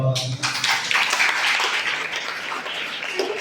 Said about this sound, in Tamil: நான் ஒரு ஜெயிச்சடிக்க ஒரு கைத்தட்டல் போடுங்க